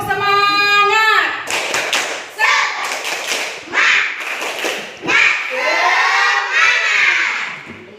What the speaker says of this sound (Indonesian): kita tepuk semangat ya